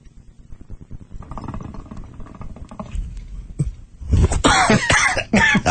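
A man coughs in a series of harsh, loud bursts close to the microphone, and the coughing grows heavier toward the end.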